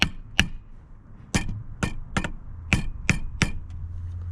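A piece of wood is tapped against the ribs of a stuck fuel filter lid on a 7.3 Powerstroke diesel, producing about eight sharp, hard knocks at uneven intervals, close and clear with no talking.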